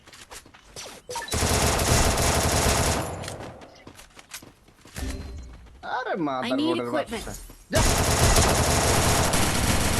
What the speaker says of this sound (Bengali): ও তো না দেখে গুলি করে, দেখেন না ভাই, না দেখে গুলি করতেছে